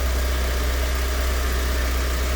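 A vehicle engine idles smoothly in its open engine compartment, a steady, even hum running continuously and close by with no voices.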